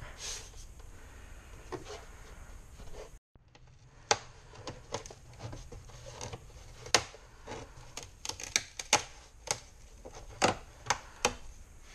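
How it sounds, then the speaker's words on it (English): A sand block is rubbed along the edges of a custom-fitted Varis-style vent insert for an MR2 Spyder, producing a series of short, scratchy strokes at an uneven pace that grow louder and quicker toward the end, close to the microphone. "I'm just going to use a sand block and sand these edges so that way make sure it's all straight"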